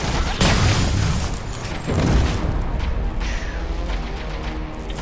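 A pipe grenade goes off in Terminator Resistance, a loud booming blast near the start followed by a second heavy burst about two seconds later, trailing into rumbling debris and lingering crackle, with no talking.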